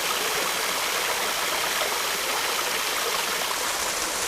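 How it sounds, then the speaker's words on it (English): A waterfall-fed stream rushes and gurgles steadily up close, with hollow gurgling where the water runs under bits of ice, a dense unbroken wash of water noise with no voices. "In some places the water is going under bits of ice and you get kind of a hollow gurgling sound."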